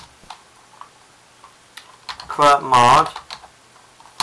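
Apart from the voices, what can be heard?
typing a terminal command on a Mac keyboard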